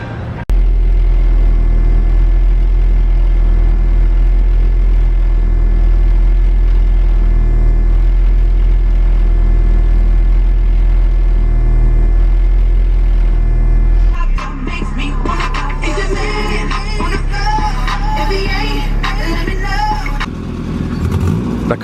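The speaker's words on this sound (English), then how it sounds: "you guys hear that turbo leak?" A car engine idles with a steady low rumble, then a harsher, brighter hissing roar joins in as revs rise, consistent with a turbo leak on an all-wheel-drive build car.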